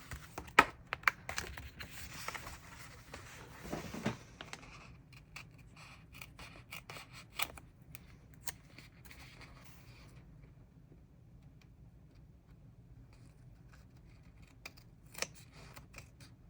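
Scissors snip through paper for a creative journal spread, giving quiet, crisp cuts in small bursts with pauses and light handling rustles in a still room.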